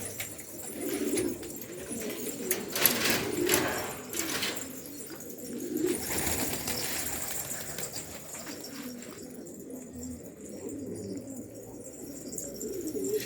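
Pigeons coo softly in repeated low phrases against a steady outdoor background, with a few brief rustles.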